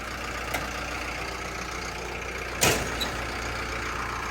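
A Caterpillar 924F wheel loader's diesel engine idles steadily with a low, even rumble, broken by a couple of brief clanks, one sharper click near the middle.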